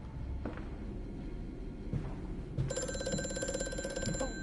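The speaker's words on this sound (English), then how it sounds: "Oh, phone." An electronic telephone ring sounds in the horror video game Amnesia: A Machine for Pigs, a bright buzzing trill starting abruptly partway through and continuing steadily, preceded by a few faint thuds over a quiet ambient background.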